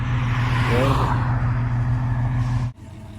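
A Chrysler CM Regal's engine idles steadily and loudly up close after a carburettor clean, holding a constant low hum before cutting off abruptly near the end.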